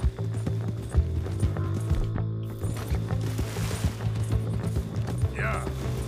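A stolen horse gallops across the landscape in the video game Red Dead Redemption 2, its hooves pounding in a fast, steady rhythm with game sounds and a voice talking throughout.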